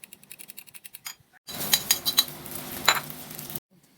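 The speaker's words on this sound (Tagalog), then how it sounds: "So now I'm hitting the egg." A utensil clinks rapidly against a bowl while eggs are beaten, first as a light ticking rhythm, then a brief pause and a louder burst of scraping, clattering strokes that stops abruptly.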